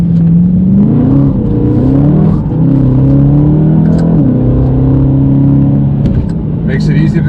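A BMW M3 engine revs while driving, its deep, smooth note swelling and falling through several throttle changes over a constant road rumble, loud and close.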